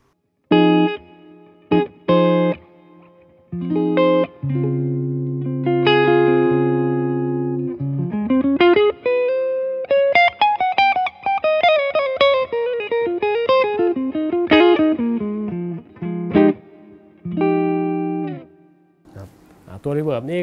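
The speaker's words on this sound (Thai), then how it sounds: "อันนี้ผมตั้ง channel รีเวิร์บนะครับเสียงคลีนประมาณไว้ที่เบอร์7นะครับ" Electric guitar played through a Laney LV300Twin amp on the clean channel with reverb: single notes and chords ring out, with a quick ascending and descending run in the middle, tails lingering between phrases, loud and alone.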